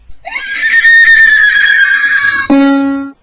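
A person loudly imitates a horse's neigh, a high wavering whinny that drops into a lower, buzzing tone before ending.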